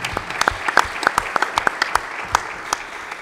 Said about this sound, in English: But please give a round of applause to our sponsors.